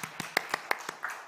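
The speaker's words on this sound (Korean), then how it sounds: "박수 치려면 치고" A few people in a church youth service clapping sparsely, about seven separate claps spaced evenly and fairly faint in a quiet room.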